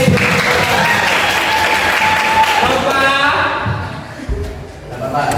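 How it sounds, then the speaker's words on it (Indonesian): Students in a classroom clap for a classmate, a fairly loud burst of applause with a few children's voices mixed in, thinning out and fading toward the end. "semua tepuk tangan untuk Aidil."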